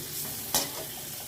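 Potatoes fry in a pan with a steady soft sizzle and hiss, broken by one sharp scrape as they are stirred; no talking.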